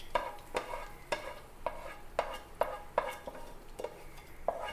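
Mustard seed tempering is tipped into papaya and stirred in the pan, giving a steady series of close, rhythmic scraping strokes over a soft sizzle.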